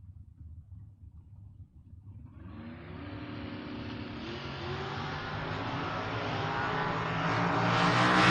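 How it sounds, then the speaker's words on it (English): A Chevrolet Camaro door-car drag racer launches and accelerates hard down the strip, its engine roar building steadily louder and higher over several seconds with no talk. "Now Josh Phelps moving up in the Camaro."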